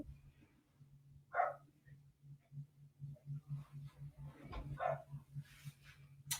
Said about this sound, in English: Little puppy outside barking.